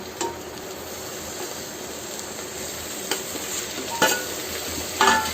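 Masala with peas, soya chunks and tomato sizzles softly in a pan while a spoon stirs it, with a few distinct scrapes and metallic taps against the pan, no speech.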